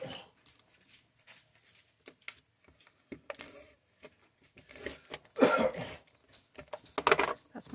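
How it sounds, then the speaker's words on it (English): A man coughs a few times in the background, rough bursts amid clicks and light tapping, fairly distant and not loud. "my husband coughing in the background"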